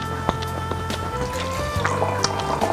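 Dry red wine is poured into a glass next to a marbled beef steak dinner, a close, gentle trickle with small splashes and drips that keeps going for a few seconds, with no talking.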